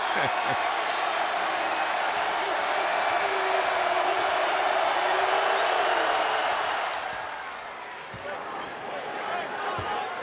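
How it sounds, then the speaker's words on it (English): Crowd roar fills a college basketball arena during an Illinois at Indiana game, a dense steady wash that swells and then dips slightly, with occasional ball bounces and faint voices underneath. "crowd noise"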